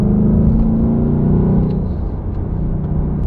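A 2019 Ford Mustang GT Performance Pack 2 V8 rumbling loud and close, a deep steady idle-like growl that eases slightly in the second half, with no voices.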